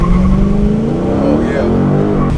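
Dodge Charger Scat Pack 392 V8 revving hard at a launch, a loud, steady engine roar rising in pitch throughout, with people talking faintly underneath.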